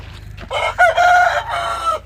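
A Bhimavaram rooster crows once, loud and close, a drawn-out cock-a-doodle-doo over a low steady hum.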